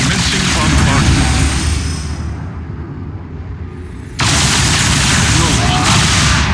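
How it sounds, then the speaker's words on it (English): Bombardment in StarCraft II Wings of Liberty, Maw of the Void mission: dense, loud rumbling blasts and booming fire that dip briefly, then surge back at full force. "Commencing bombardment."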